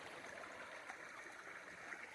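Goldstream River current flowing deep and strong, a steady, fairly faint rushing wash of water without pauses or voices.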